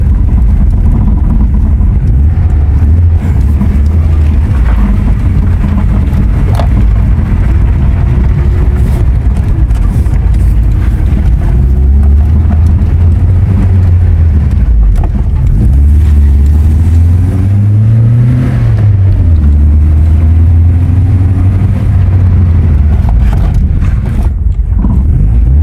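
Opel Manta GTE with badly binding, rusty front brakes pulling along, a loud continuous low engine and rolling drone with rising and falling pitch sweeps and scraping friction noise, close and steady throughout.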